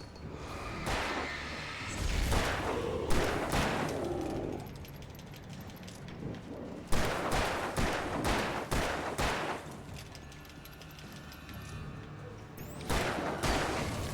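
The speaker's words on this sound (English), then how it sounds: "I think that guy's shooting me now." Video game gunfire crackles in bursts of rapid automatic shots, with clusters of loud sharp reports separated by short pauses and quieter game background between them.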